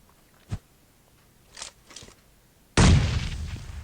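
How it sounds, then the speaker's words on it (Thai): A grenade blast in PUBG Mobile follows a few faint, scattered game clicks and thuds: one sudden loud boom that rolls into a long, decaying rumble. "เดี๋ยวขอระเบิดเช็คตรงต้นไม้ สักลูกดีกว่านะครับ"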